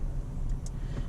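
A manual Jeep Gladiator's engine holds a steady, close low rumble with no clear rise in revs, and no voices are heard.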